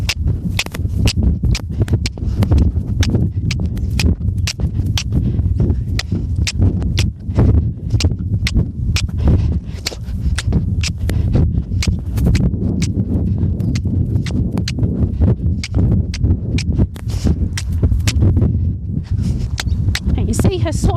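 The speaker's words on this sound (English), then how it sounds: "You see her swapping her hind legs all the time." A Standardbred mare cantering under dressage retraining, her hooves sounding a steady, rhythmic clip-clop close by for the whole stretch while a trainer talks over it.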